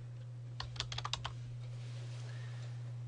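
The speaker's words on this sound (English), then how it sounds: "I'm typing a comma after his last name and then his first name, John." Short burst of about eight quick keystrokes on a computer keyboard while typing a name into a patient-name field, close and crisp over a steady electrical hum, followed by quiet.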